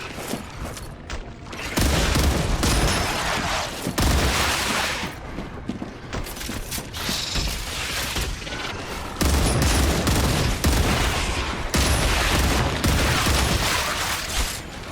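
Dense automatic gunfire from the video game StarRupture, a sustained hosing stream of shots with mechanical clatter and booming bursts, loud and continuous throughout with brief swells.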